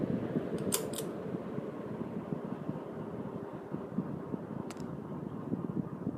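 An early-to-mid-1980s Carroway EF-100 ceiling fan runs on medium speed, a quiet, steady whooshing hum of moving air with a couple of faint clicks near the start and later on.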